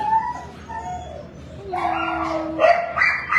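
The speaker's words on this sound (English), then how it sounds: "let me go and show you guys some of our large and medium dogs." Shelter dogs in the kennels at Dallas Animal Services bark, howl and whine together in a loud, echoing chorus, with overlapping voices rising and falling close by.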